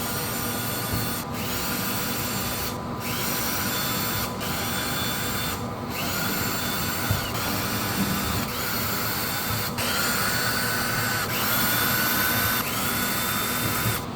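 Power drill running repeatedly to remove Torx screws from the underside of a Tesla Model Y, several short whirring bursts separated by pauses over steady background noise, close by.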